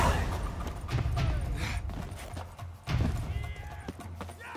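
Horse hooves clopping on hard ground in The Witcher 3, a rhythmic series of thuds with two louder bursts, close and moderately loud over a muffled ambient backdrop.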